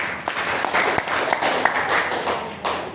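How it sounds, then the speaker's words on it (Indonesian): Seminar audience gives Mas Arman a round of applause, with steady, fairly loud, crowded clapping that lasts about three seconds. "Tepuk tangan buat Mas Arman"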